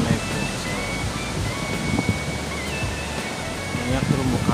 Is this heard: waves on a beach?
yes